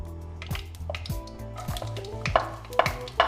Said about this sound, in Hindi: इतना पकाएंगे कि लहसुन हल्के से सौते हो जाएं